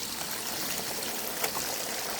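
Wash water draining away from raw Icelandic wool outdoors, a steady close trickle and pour with no voices.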